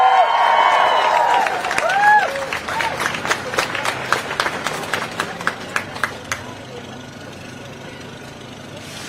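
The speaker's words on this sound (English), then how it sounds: "Ooh, lots of people in the crowd." Crowd at a reproductive justice rally in the Twin Cities claps and cheers, a dense wash of applause with whoops that thins out into scattered claps over several seconds, with a voice speaking over the start.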